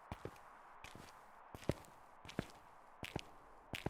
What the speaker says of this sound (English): your own footsteps sound like the ghost footsteps